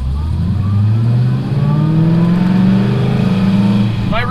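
A Pontiac GTO accelerates hard, its engine note rising continuously through the revs, loud and close from inside or near the car, with a brief clatter at the end.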